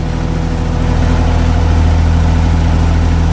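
A Perkins 27 kVA diesel generator under load testing runs with a steady, loud low hum and droning engine tone, building slightly at first and then holding constant.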